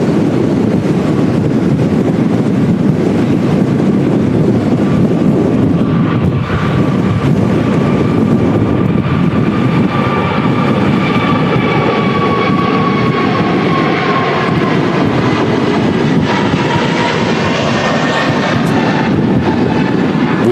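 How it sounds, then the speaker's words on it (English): An Airbus A380 roars through a full-power takeoff at Manchester Airport in strong crosswinds, a loud sustained engine thunder with rising whine and gusting wind buffeting the microphone throughout. "Going to be a full power takeoff."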